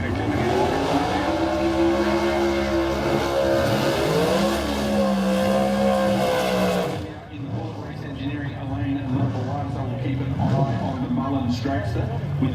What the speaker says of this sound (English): Dragster with the 376 cubic inch Chevrolet powering that one